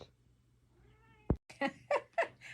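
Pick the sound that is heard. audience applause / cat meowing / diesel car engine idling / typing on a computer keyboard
cat meowing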